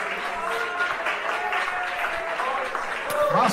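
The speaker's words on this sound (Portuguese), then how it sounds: "As palmas para Jesus" Congregation clapping during an evangelical church service, steady massed applause under voices and some background sound, swelling slightly near the end.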